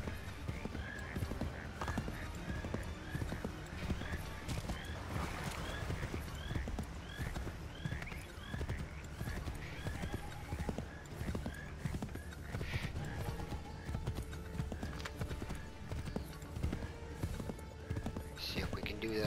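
Horses clip-clop in Assassin's Creed 3, quick hoof beats running throughout under game music and whispered voices, with a whinny partway through.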